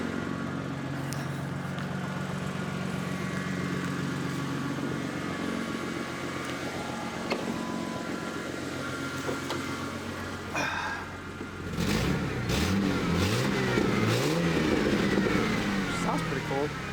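A repaired Ford Mustang engine idles steadily at 1,000 RPM with a low, even rumble, and a person talks over it in the later part.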